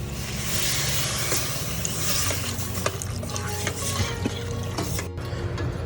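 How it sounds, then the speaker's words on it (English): Water poured into a pot of spiced oil while cooking sambar, a steady loud rushing gush that runs continuously with faint stirring clinks and no talking. "And now we'll add some water to it."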